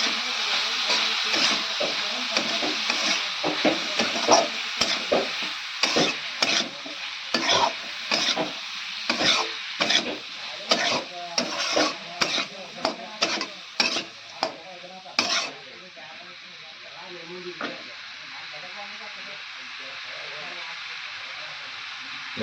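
Spices, ginger paste and fish being stirred in a frying pan: a loud sizzle with repeated sharp scraping strokes of the spatula for about fifteen seconds, then a softer steady sizzle alone.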